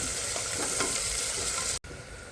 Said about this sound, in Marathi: कांदा आपण मोहरेपर्यंत परतून घेणार आहे चांगला